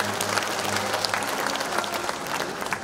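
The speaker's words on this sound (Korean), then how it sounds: "여러분 큰 박수 부탁드리겠습니다." Applause from the audience at a 72nd anniversary ceremony of the disabled veterans' association, Yongin branch. A brief burst of steady, dense hand clapping fills the hall with no speech over it.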